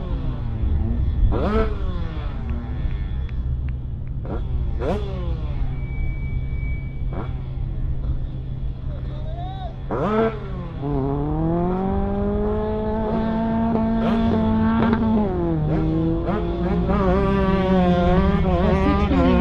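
Drag racing karts rev their engines near the start line, sharp rising and falling engine whines repeating over a steady low drone, loud and close, with a couple of blips before a long sustained rev.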